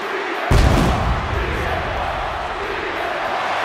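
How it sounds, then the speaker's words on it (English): A sudden loud blast of pyrotechnic explosions booms in a WWE 2K26 wrestler entrance, followed by a sustained roar of arena crowd noise. "Explosions, Michael Bay."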